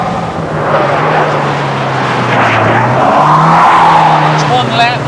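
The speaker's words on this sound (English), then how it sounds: "It's one lap at Thruxton Circuit in a Montego Turbo." MG Montego 2.0 Turbo racing a lap of Thruxton Circuit, its engine roaring loud and close with rising and falling revs through gear changes, a brief tyre squeal, and speech mixed in.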